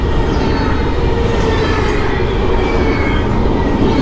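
A train passes on a back road near Front Royal, Virginia, as a steady, loud, close rumble of rolling wagons with rattling wheels that fills the whole moment without a break.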